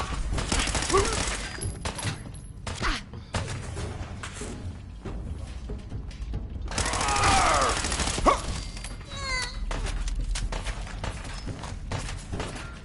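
Gunfire in the video game Fallout 4, with bursts of shots and combat effects running throughout at a steady level, mixed with game sounds and some speech.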